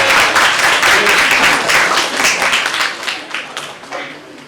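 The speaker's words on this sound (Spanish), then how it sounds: "vamos con fuerza, un aplauso para ellos" An audience at a storytelling event applauds with dense, steady clapping that slowly thins and fades toward the end.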